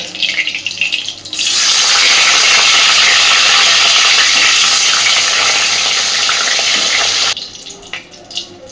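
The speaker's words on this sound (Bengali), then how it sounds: "বাকি মাছগুলো আমি সব ভেজে নেব।" Tilapia fish pieces fry in hot oil in a pan, a loud continuous sizzle that bursts in after a quiet start and holds steady for several seconds before cutting off.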